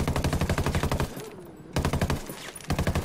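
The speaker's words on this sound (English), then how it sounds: "Let's do that, and let's hear some gunfire." Bursts of rapid unsuppressed automatic gunfire in Ghost Recon: Wildlands, in three sharp volleys separated by short pauses, loud and close.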